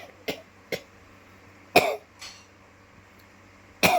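Several separate coughs with some throat clearing, close and sharp, spaced irregularly with quiet gaps between the bursts.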